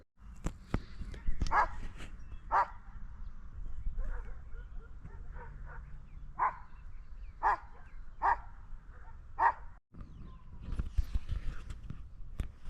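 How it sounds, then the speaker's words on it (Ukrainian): A dog barks repeatedly at a distance in a mountain forest, short sharp barks spaced a second or so apart over a quiet outdoor background with faint rustling. "Ні, це собака."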